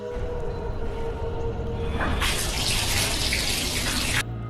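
Warm water pours steadily into a bathtub in a film scene, a continuous rushing flow that swells louder partway through and then cuts off near the end, with no voices.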